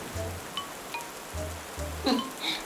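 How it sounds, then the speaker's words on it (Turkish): Light rain begins pattering steadily on the ground and surfaces outdoors, with scattered droplet taps and a soft low rumble underneath. "yağmur başlıyor"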